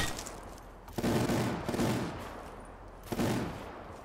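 The Death Machine, a rapid-fire minigun in Call of Duty Black Ops 3 zombies mode, roars in two long sustained bursts of dense continuous fire separated by a short pause, loud and close.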